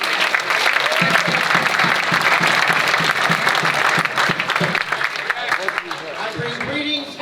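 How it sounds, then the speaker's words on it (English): Audience at an annual Saint Patrick's Day luncheon applauds the event's longtime chair, a loud sustained round of clapping from a large crowd that gradually thins toward the end. "Let's give Jack a round of applause"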